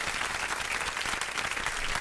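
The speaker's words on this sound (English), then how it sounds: "I welcome you again and give you a second round of applause for your opinion" Studio audience applauding a guest on a radio show, a brief, full burst of many hands clapping at even loudness, with no voices over it.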